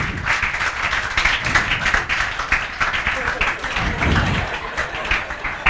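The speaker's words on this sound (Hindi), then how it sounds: "आर्यन श्रीवास्तव के लिए तालियां बजाओ जोरदार।" Students in a classroom break into brisk, loud clapping that rises and falls in uneven waves while a voice talks over it.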